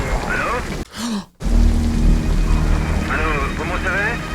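Steady heavy rain pours close by with a low rumble of thunder underneath, while a voice crackles faintly over a radio through the storm.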